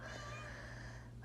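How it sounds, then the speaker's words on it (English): A pet cat gives a single faint, drawn-out meow in a quiet room, soft and somewhat distant, with no voices. "If you hear meowing, that is my cat."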